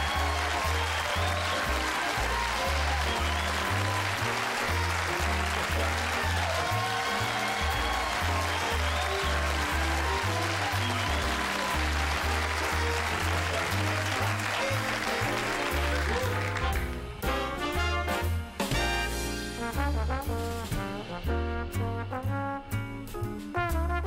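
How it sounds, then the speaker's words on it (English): A studio audience applauds at the close of a late-night talk show. The clapping is loud and sustained, mixed with strong rhythmic band music that runs underneath throughout and shifts in its final seconds. "I'm humbled by that applause."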